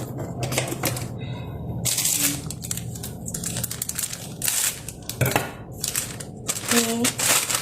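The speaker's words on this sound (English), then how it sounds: "let me grab a scissors" Gift packaging for a career seminar is snipped and torn open with scissors, giving a close run of crisp cuts, crinkles and rustles in irregular bursts, with faint voice in the background.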